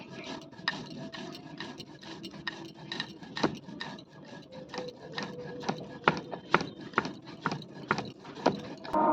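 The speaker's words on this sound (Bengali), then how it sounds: "এবার পোস্তটা বেটে নেবো সর্ষে আর পোস্ত অল্প সর্ষে দিয়েছি" Mustard and poppy seeds being ground into a paste on a stone give a rough, rhythmic rasping and scraping, one stroke after another, close and fairly loud, with no talk.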